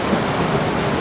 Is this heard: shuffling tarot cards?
no